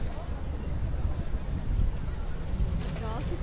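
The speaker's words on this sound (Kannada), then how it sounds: "This is the ship which is going to cross that" A ship passes beneath Tower Bridge on the Thames in London, heard as a low rumbling water-and-engine wash under gusty wind noise, with faint distant voices.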